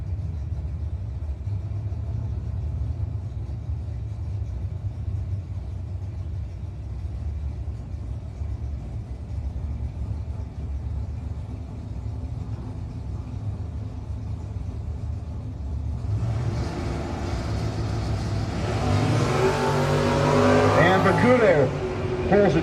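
Drag race cars at a no-box drag racing event, including a Firebird, staging and launching down the racetrack: a steady low engine rumble builds, then bursts into a loud, rising roar of revving engines near the end.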